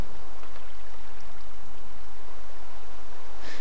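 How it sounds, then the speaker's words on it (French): Steady broadband rush of a waterfall in the Minecraft video game, a continuous even wash of falling water, fairly loud and unbroken, with no voices over it. "On est dans la cascade."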